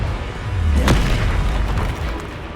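A fiery Confringo spell explodes in Hogwarts Legacy, a single loud deep boom with a sharp crack near the start and a rumbling tail that fades over a couple of seconds.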